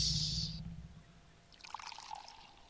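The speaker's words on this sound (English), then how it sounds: "That pouring sound." Milk pouring in the video game Conker's Bad Fur Day, a brief gurgling liquid stream that follows a short high tone and continues alone for about a second.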